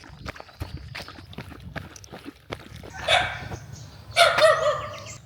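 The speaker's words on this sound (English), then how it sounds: "There are like 5 dogs here barking at me" Several dogs bark in loud bursts near a temple in Luang Prabang, Laos, with footsteps tapping steadily underneath before the barking swells.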